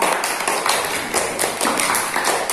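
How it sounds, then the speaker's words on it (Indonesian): A classroom of students claps together for a classmate, a brisk rhythmic patter of hand claps, close and steady throughout. "Bagus, tepuk tangan untuk Mbak Wanda"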